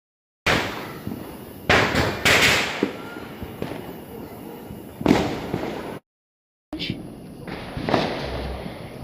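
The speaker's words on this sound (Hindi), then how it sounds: "अभी जो ये बम फूट रहे हैं ना" Diwali firecrackers bursting outdoors during a festival evening, a series of loud sharp bangs and crackling pops in irregular bursts, with voices talking in the background between blasts.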